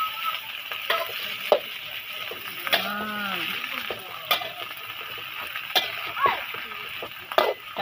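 Fresh sweet leaf shoots (pucuk manis) from a home garden are stirred in a pan for fried vermicelli, giving a steady sizzle broken by scraping, clattering stirs, with a voice talking over it.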